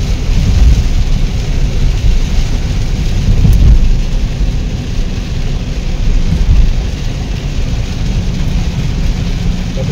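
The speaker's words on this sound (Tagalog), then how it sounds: "Oh, grabe nga ulan." Heavy rain pours down around a vehicle driving in traffic in Agusan del Sur, a dense constant roar with low thunder-like rumbles swelling now and then, loud and close with no talk.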